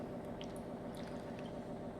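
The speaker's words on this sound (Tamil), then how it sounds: "இந்த மாதிரி நல்லா புளித்தண்ணியில் கரைச்சிக்கோங்க கருணக்கிழங்கு" Boiled pidi karunai (small elephant yam) is squished by hand in tamarind water, giving soft, wet squelches and faint drips at close range with no talking.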